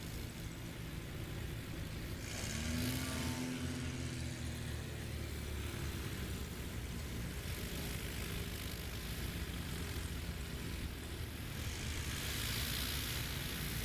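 A 2023 Patriot Aircraft Super Patriot Mark II STOL plane runs at a short takeoff and landing competition at an airpark, its propeller engine droning steadily and loudly, with a rising whine partway through.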